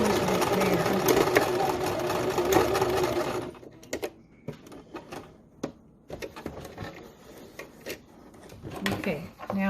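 A sewing machine stitches fabric for a face mask, running loud and continuous for a few seconds, then giving way to short stops, clicks and handling noises while someone talks.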